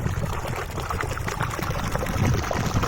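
Water runs from a motor-fed pipeline into a paddy field on a natural farm in the morning. It makes a steady, close rush and gurgle of flowing water, unbroken and fairly loud throughout, with no voices.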